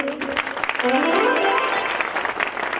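Applause from a crowd at a celebration event honouring a donor, a dense patter of clapping across the clip with a voice speaking over it.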